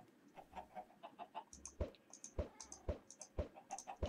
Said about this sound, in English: Let's see if we can get any more chickens.